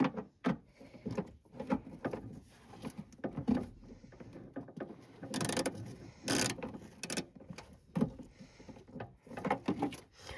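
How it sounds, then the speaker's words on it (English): A ratchet wrench tightening a bolt on a 1984 first-generation Chevy S10 while fixing the wiper fluid tank, rapid clicking bursts mixed with metallic knocks and handling clatter, close and fairly loud. "Now we can ratchet it in."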